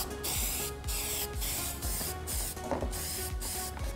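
Plasti-Dip coating sprayed onto a car from an aerosol can in repeated short hissing bursts, each a second or less, close and fairly loud.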